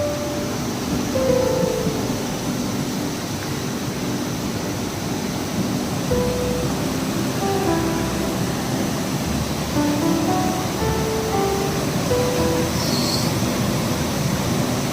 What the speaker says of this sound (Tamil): அதன் அருகே அருவி ஆர்ப்பரித்து கொட்டும் அழகிய காட்சி